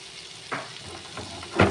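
Butter meets hot oil in a pan for Goan butter garlic prawns, giving a low sizzle with two sharper bursts of crackle, the second louder, all close and brief, with no voices.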